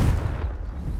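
The Confringo blasting spell goes off in the Hogwarts Legacy video game as a single deep, rumbling explosive boom that fills the whole second and fades slightly toward the end.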